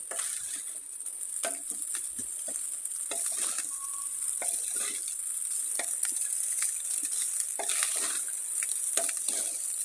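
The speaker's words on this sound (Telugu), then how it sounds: "ఇప్పుడు ఒకసారి కలుపుకుంటే మన ఎగ్ ఫ్రైడ్ రైస్ రెడీ అయిపోతుంది" Egg fried rice stirred in a hot pan, with a constant bright sizzle and scattered scraping and tossing clicks from the spatula, close and unbroken by talk.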